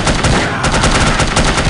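Rapid bursts of gunfire from the spy shooter game No One Lives Forever crackle continuously and loudly, shots packed tightly together like automatic weapon fire, with no talking over them.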